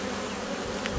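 Dense, steady drone of many honey bees swarming over the frames of a Carpatica hive in an apiary, close and continuous, with a few sharper wingbeat bursts near the end.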